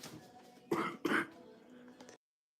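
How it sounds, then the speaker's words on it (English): Two sharp, close coughs in quick succession, rough and throaty, followed by a quieter trailing breath before silence. "I had to cough"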